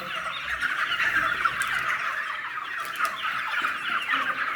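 Gold Brahma chickens cluck continuously in a busy, close flock chorus, loud and steady with no talking.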